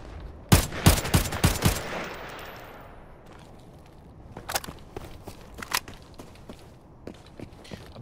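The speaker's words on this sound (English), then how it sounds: "Some gunshots going off." A rapid burst of sharp gunshots up close in the video game Arena Breakout: Infinite, followed by a quieter lull and then scattered shots further off.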